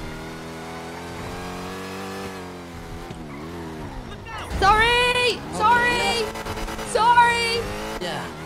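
Loud car engine revving hard in GTA V on the NoPixel roleplay server, a worn engine needing replacement, rising and falling in several bursts with tire squeal, under people talking.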